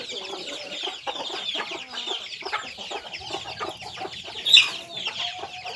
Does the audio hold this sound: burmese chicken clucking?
yes